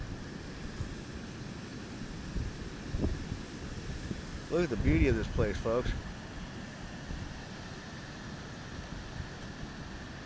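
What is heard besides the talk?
ocean waves roaring and wind blowing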